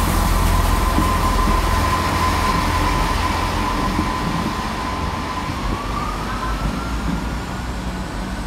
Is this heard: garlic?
no